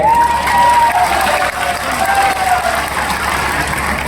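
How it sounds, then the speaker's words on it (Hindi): Crowd applauding at a Rahul Gandhi public rally, loud and steady, with a high whistling tone sweeping over the dense clapping and a low hum underneath. "अभी ताली बजाई है"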